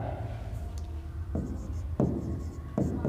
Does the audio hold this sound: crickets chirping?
no